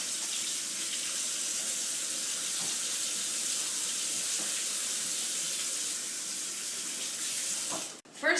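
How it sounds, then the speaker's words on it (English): Water runs steadily from a kitchen tap into a sink as hands are washed, a constant close hiss that holds for most of the stretch, then cuts off near the end with a brief clunk. "make sure to wash your hands"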